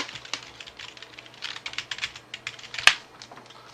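Rapid typing on a computer keyboard, a close, steady run of light key clicks with one sharper keystroke near the end, with no talking.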